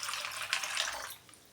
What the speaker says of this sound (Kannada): ಮುಳುಗುವಷ್ಟು ನೀರು ಹಾಕಿ